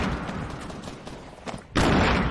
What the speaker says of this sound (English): I'm throwing grenades.